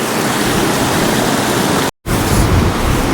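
Waterfall near the Fairy Pools on the Isle of Skye, a steady, loud broadband rush of falling water close by, with one brief dropout of silence partway through.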